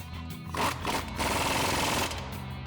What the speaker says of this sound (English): Now we can go ahead and tighten down our lower control arm bolts using our 21mm socket on our impact